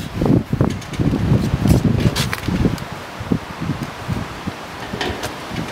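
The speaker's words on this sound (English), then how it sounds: "this wind is not helping" Gusty outdoor wind buffets the microphone during work on a 1970 Ford Mustang Mach 1, heard as low rumbling bursts and rustling that rise and fall over a few seconds, with no talk.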